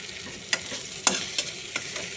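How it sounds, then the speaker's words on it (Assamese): Greens and boiled potatoes fry in oil for an Assamese fish curry, sizzling softly. About five distinct scraping stir strokes from a spatula or spoon land at uneven intervals, close and fairly clear, with no talking. "তাৰ পাছত ইয়াতে দি দিছোঁ মই বইল কৰি ৰখা আলুখিনি।"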